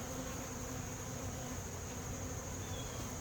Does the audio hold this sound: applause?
no